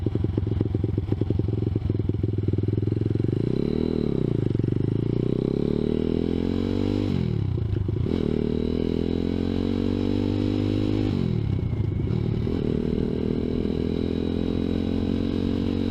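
ZS190 Grom clone motorcycle engine droning steadily while riding, its pitch rising and falling with throttle changes and brief dips around shifts, loud and close throughout with constant wind rush.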